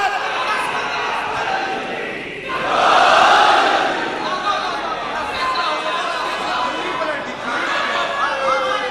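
At a Muharram majlis gathering, a crowd answers the slogan call with a loud swell of shouted voices that rises and fades, with murmuring around it.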